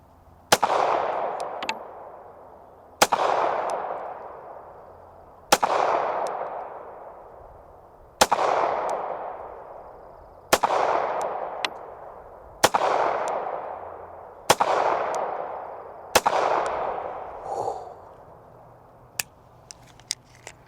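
Bodyguard 2.0 .380 pistol fired at an outdoor range: eight sharp, loud shots spaced a couple of seconds apart, each ringing out with a decaying echo, with a few faint clicks between them.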